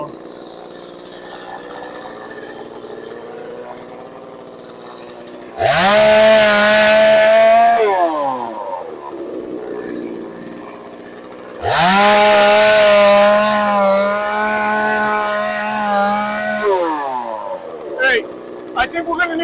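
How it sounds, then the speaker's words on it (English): A chainsaw cutting down trees roars in two loud bursts of a couple of seconds each, revving up and dropping off, with quieter idling and outdoor background between them. "Saw and the chainsaw."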